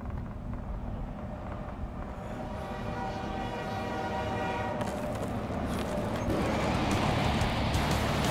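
A train in the video game In Sound Mind rumbles along steadily with no talk, the noise swelling louder and brighter toward the end.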